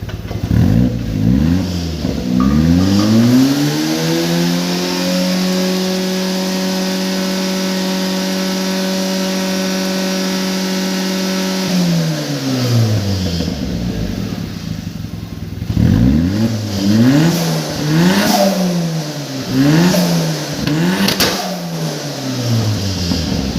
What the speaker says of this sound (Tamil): அப்போது இந்த வண்டியோட எக்ஸாஸ்ட் நோட் எப்படி இருந்துச்சுன்னு இப்போ நீங்கள் பார்ப்பீங்க